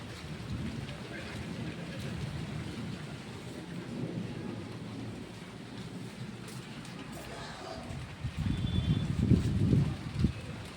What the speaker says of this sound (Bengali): বৃষ্টিটা দেখো তোমরা, দেখো বৃষ্টি পড়ছে।